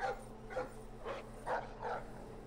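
Guard dog in Splinter Cell giving five evenly spaced barks, moderately loud over a low steady background hum, with no talking.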